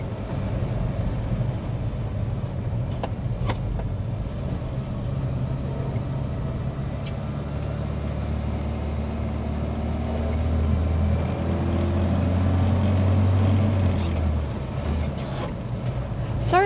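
A Citroen DS engine hums steadily from inside the cabin while driving, a low continuous drone that swells slightly louder toward the end, with faint clicks and rattles.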